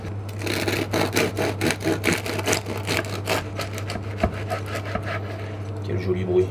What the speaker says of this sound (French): Alors le pain, on va déjà le couper en deux.